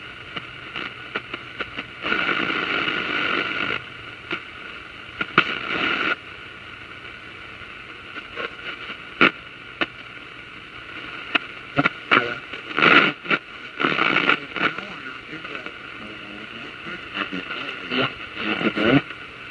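Static and hiss from a Zenith 6S528 shortwave radio, with a faint, drifting amateur voice transmission fading in and out, crackling bursts and pops scattered throughout.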